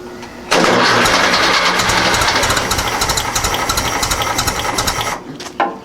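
A 1956 VW Beetle engine cranks loudly, its starter engaged by shorting the solenoid with a screwdriver, a fast steady whirring churn that runs for about five seconds without catching, then cuts off with a brief final burst.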